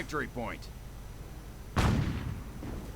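A Puma armored car fires on riflemen in a real-time strategy video game, one loud heavy cannon-like blast with a rumbling tail, preceded by brief unit voice chatter.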